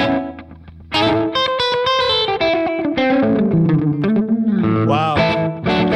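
A guitar played through an effects pedal with a short, quick echo, bright chords ringing loud with a slapback repeat behind each note.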